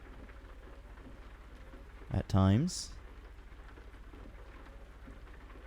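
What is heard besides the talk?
rain in American Truck Simulator video game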